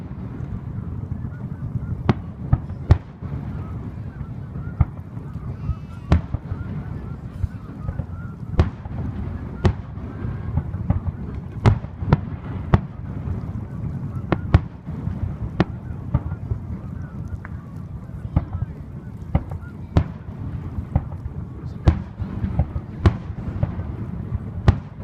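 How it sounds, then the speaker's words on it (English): Distant fireworks burst in irregular sharp cracks and pops at a July Independence Day celebration, repeated many times over a steady low rumbling background with occasional honking, and faint voices now and then. "I think it's only us tonight with fireworks."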